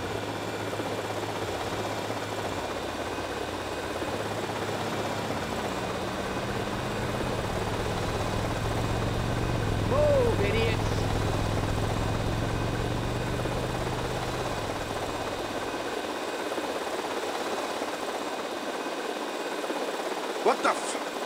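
A Hunter helicopter flying in the game GTA Vice City, a steady rotor and engine drone running throughout with a slight swell midway, then fading toward the end, with talk over it.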